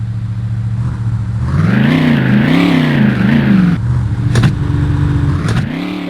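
A Dodge Viper engine races through a city in the 1995 PC game The Need for Speed, loud and close, revving up and down in waves with sharp dips at gear changes.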